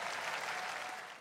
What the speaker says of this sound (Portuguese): Vamos aplaudir o maravilhoso Jesus Cristo